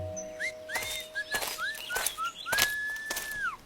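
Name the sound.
person whistling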